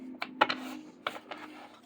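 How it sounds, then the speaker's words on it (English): A new Folkloric Forest Tarot deck is shuffled by hand, giving close, crisp papery clicks and flutters in short, uneven bursts, with no one speaking. "Let's shuffle this bad boy."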